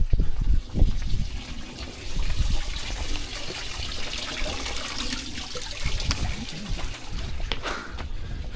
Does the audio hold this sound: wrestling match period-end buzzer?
no